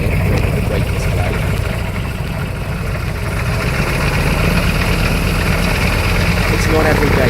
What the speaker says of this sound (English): Here we have the Wirraway coming in for a great display.